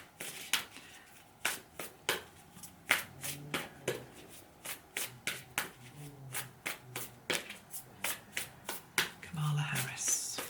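Tarot cards shuffled and pulled from a deck in a series of crisp, close riffling snaps and slaps, fairly regular, with quiet hand movement between them and no clear talking.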